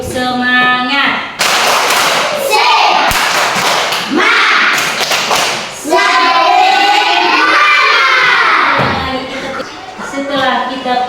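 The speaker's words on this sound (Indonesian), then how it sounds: "kita tepuk semangat" Indonesian classroom performing a rhythmic clapping chant together, sharp hand claps and thuds in patterned bursts mixed with loud group voices and shouts, close and energetic throughout.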